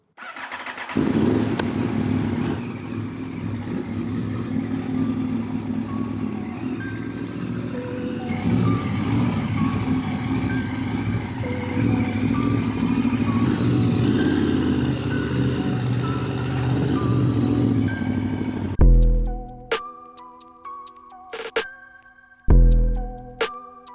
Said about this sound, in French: Il est temps d'essayer ma nouvelle moto.